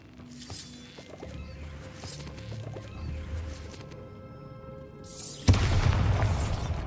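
Bombarda spell explosion in the video game Hogwarts Legacy: one sudden loud boom hits late, bursting over earlier game effects and lingering as a broad crashing rumble.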